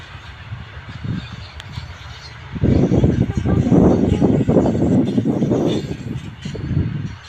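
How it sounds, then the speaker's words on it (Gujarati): A train rumbles past close by, a loud, steady low roar that swells in after a quieter start and continues to the end. "હા રેલગાડી જાય"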